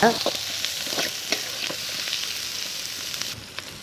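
Onions sautéing with ginger-garlic paste and curry leaves in a pan for a crab gravy, a steady close sizzle with scattered crackles and spatula scrapes, loudest at the start, no voices.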